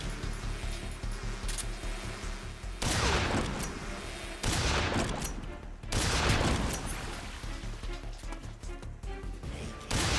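Shotgun fire in Metal Gear Solid 3: loud, booming blasts land every second or so against a steady, dense background of game sound, with no voices over them.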